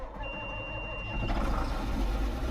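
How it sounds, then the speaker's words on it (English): Diesel engine of a John Deere tractor in Farming Simulator 19, a steady low rumble that swells louder about halfway through as the engine revs up, with no talk over it. "we're going to be grabbing the John Deere tractor"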